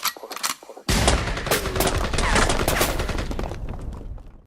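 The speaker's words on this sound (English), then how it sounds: "A lot of fucking gunshots." A rapid burst of loud gunfire crackles continuously for several seconds, dense overlapping shots that fade out at the end.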